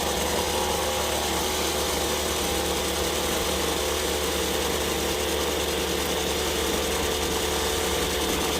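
A salvaged gas string trimmer with newly replaced fuel line idles fast and rough, a continuous loud buzzing drone with a rattly mechanical edge, close and unbroken throughout with no talk.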